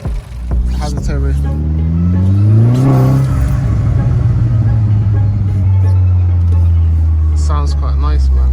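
A turbocharged Vauxhall VXR engine with a new air intake pipe revs up and holds a loud, rising whine with a turbo whistle, continuous and close for several seconds, with no talking.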